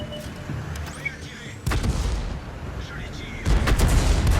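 Tank guns firing in World of Tanks, a Panhard AMD 178B battle on the Malinovka map: two heavy booming shots a couple of seconds apart over a rumbling battlefield background.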